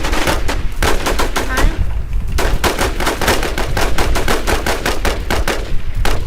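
Constant automatic gunfire from the online survival shooter Infestation: loud, rapid bursts of shots that repeat almost without a break, layered from more than one weapon.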